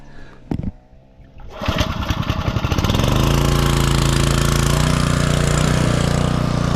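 A small gasoline engine, used to pump water for cows, is pulled over and catches at about two seconds, then runs steadily and loudly at a rough, constant idle.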